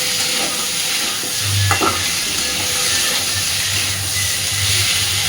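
Potato and pointed gourd curry with chopped tomato sizzles loudly in a pan while being stirred, with a steady frying hiss and a few soft scrapes and knocks of the spoon, close up and without speech.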